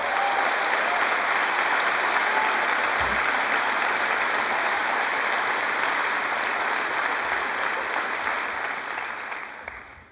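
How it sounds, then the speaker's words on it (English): A graduation ceremony audience gives a long round of applause, with thick, steady clapping from a large crowd that tapers off and fades away at the end. "Please stand for a round of applause."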